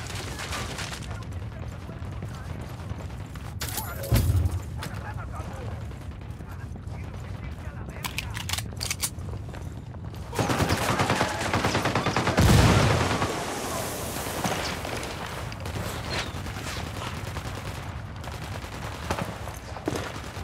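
Gunfire erupts in the tactical shooter Ghost Recon Wildlands, with bursts of automatic fire and heavy booms over a steady game soundscape, the loudest volleys landing midway and again toward the end as voices talk over the fight.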